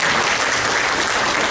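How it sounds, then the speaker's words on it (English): Audience applause fills a meeting room at a public lunch-and-learn presentation, steady and dense clapping from a crowd, close and loud, with no talk over it. "You can go ahead and applaud."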